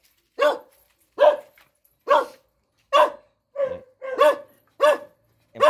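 A wild-boar and deer hunting dog barks eight times in a steady, evenly spaced series of sharp, fairly close barks with quiet gaps between them and no talking.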